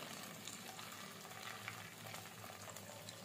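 Poha pakoras fry in hot oil with a continuous soft, faint sizzle and bubbling, steady throughout with no voices.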